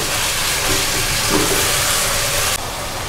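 Mutton mince frying in a pan, a loud continuous close-up sizzle and hiss that drops off sharply near the end.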